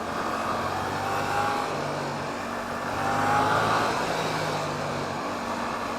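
A Suzuki GSX-8S motorcycle engine revs and climbs in pitch, then eases and builds again, a steady droning roar heard from up close with no voices.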